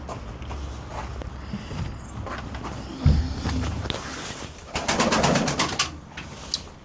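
Pigeons in a home loft give soft, low cooing among rustles and light footsteps, with wingbeats and shuffling rising near the end; the birds sound close.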